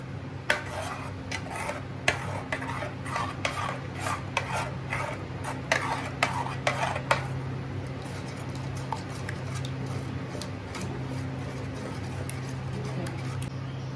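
A utensil scrapes and stirs mashed ingredients for pav ragda in a pan, giving repeated close clinks and rasping strokes early on, then a softer steady stirring over a constant low kitchen hum.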